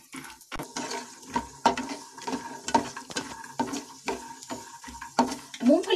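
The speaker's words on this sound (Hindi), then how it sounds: "ऑयल हमारा गरम हो चुका है, अब मैं इसमें ये मूंगफली के दाने डाल दूंगी और इसे मैं रोस्ट कर लूंगी" Peanuts roasting in hot oil in a pan, with repeated close scraping and knocking stirring strokes over a faint sizzle, in an irregular rhythm without talk.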